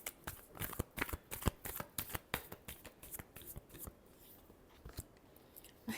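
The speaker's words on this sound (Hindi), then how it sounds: "Last shuffle." Tarot cards being shuffled by hand in a quiet room, a brisk run of close, crisp riffling bursts that thin out toward the end.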